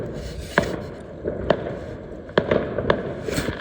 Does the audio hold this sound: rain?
no